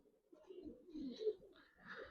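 Giribaz coloring pigeons coo softly at a pigeon farm, a few low, throaty rolling coos following one another in a quiet setting, faint and unaccompanied by talk.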